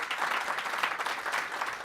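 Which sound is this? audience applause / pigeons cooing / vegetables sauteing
audience applause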